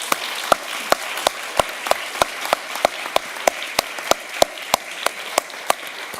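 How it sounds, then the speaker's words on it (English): A single sharp clap recurs about every third of a second, the same pattern throughout, over a steady hiss. No voices. It sounds like rhythmic clapping or a looped sample more than crowd applause for a panel. "let's give the panel a final round of applause."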